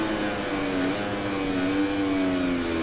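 A motorcycle engine in the MotoGP 19 video game holds a steady high rev during a wheelie, a loud continuous droning whine with slight pitch wavering and no break.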